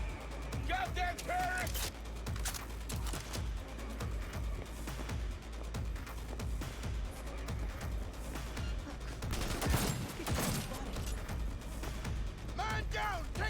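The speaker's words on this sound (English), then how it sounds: "Am I shooting like explosive rounds?" Rapid bursts of explosive-round gunfire in a Cyberpunk 2077 firefight, dense crackling volleys with heavier blasts near the middle, while a voice talks over the shooting.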